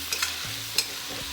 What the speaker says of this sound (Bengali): এবারে নাড়বো,